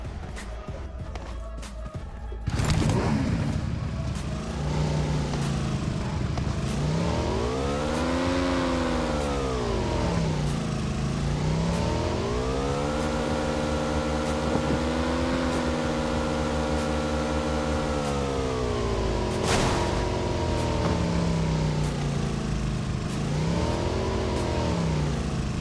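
Motorbike engine in the PUBG Mobile video game, a loud continuous drone with repeated revving swells and falls as the bike accelerates and slows, with a brief clatter at the start.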